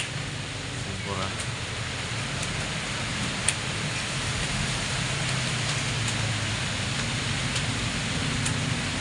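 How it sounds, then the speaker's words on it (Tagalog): Heavy rain pours steadily beside a swimming pool during a storm in Thailand, a dense, even hiss that fills the whole span with a few sharper drop impacts, alone without talk. "Ang lakas ng ulan dito."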